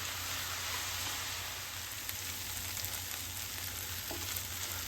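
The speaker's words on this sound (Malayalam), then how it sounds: "ടൊമാറ്റോ മെൽറ്റാവണ വരെ ഇളക്കിക്കൊണ്ടിരിക്കുക." Tomatoes and onions cooking in a pan for tomato chutney, giving a steady, continuous frying sizzle close by with faint stirring underneath, no voices.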